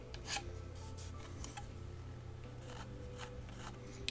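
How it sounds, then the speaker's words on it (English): Draw filing along the sharp plastic edge of a Tamiya Volvo FH12 1/14 scale RC truck kit part: a series of dry, close rasping strokes with short pauses between them, under a steady low background hum. "I am using it as a draw file."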